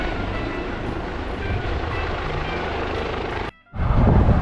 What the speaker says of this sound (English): The helicopter continued to hover, and at one point it looked as though it was going to land